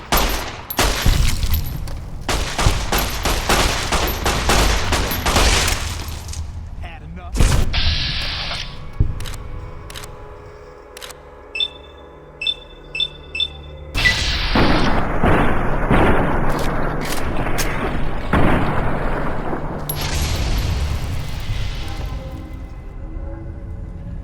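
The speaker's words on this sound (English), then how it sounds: "They threw a grenade at me." A grenade blast and heavy gunfire from the video game Fallout: New Vegas, with loud, dense bursts of shots and explosions, a brief lull holding faint beeps and clicks, and then renewed rapid fire, all close and intense.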